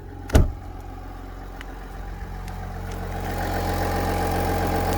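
A sharp knock, then a Duramax diesel engine idles nearby with a low, steady clatter that grows slightly louder and fuller toward the end.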